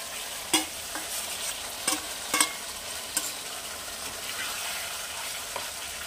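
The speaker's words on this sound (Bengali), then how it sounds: "আমি দিয়ে দেবো ভেজে রাখা মাছগুলো" Pre-fried boal fish being stirred into a sizzling Bengali curry in a pan, with a steady soft fry hiss and a few sharp scraping knocks of the spoon early on, fairly quiet and without talk.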